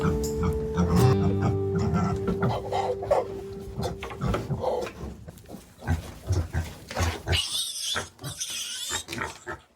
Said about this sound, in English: it's time to separate the pigs from Mama